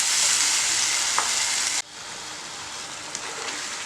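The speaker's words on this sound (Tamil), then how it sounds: "வச்ச விழுதை வந்து அதில் போட்டுக்கலாம். இது கொஞ்சம் நேரம் வதங்கட்டும்." Ground masala paste for chicken salna sautéing in a hot pan, a loud, dense hiss like rain that cuts to a softer, steadier sizzle partway through, close up with no talking.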